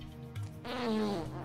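A buzzy, drawn-out fart sound effect from the video game Frogge rises after a short blip and holds for nearly a second, fairly loud with no talk over it.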